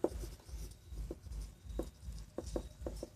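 Pen or chalk strokes on paper or a board during a Class 12 maths lesson on differentiation, a soft irregular patter of short scratchy taps spread across the clip, fairly faint and close, with no talk over it.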